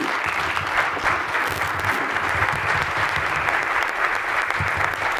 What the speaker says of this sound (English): how about another bigger round of applause for this panel